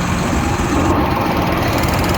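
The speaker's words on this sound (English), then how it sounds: "Lorry's just fired up." A loud, close diesel engine of a Renault Kerax lorry runs with a deep rumbling throb, steady and heavy throughout the short stretch.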